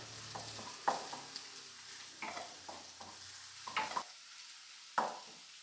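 Chopped ginger and garlic sauté in a pan for dal fry, a faint soft sizzle broken by a few sharp clicks and scrapes of a spoon against the pan.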